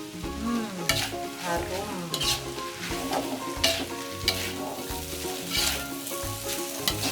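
Mie goreng noodles with fish roll are stir-fried in a pan with a loud, steady sizzle and rhythmic scraping tosses, while music plays underneath and a voice briefly speaks.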